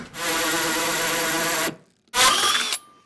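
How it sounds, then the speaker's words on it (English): A power drill boring a hole in a door whirs steadily for about a second and a half, stops, then bursts into a shorter, higher-pitched grinding run, close and loud. "It's time to drill a hole in John's brand new door."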